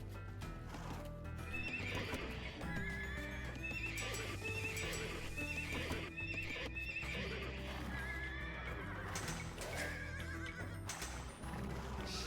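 Paladin cavalry in Age of Empires 2 neigh and whinny repeatedly over a steady clip-clop of hooves, a dense overlapping herd of horse calls with no talk.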